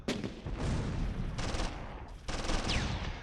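Machine gun fire in the war game Close Combat III, heard as several loud, rapid rattling bursts separated by brief gaps, with no talking over it.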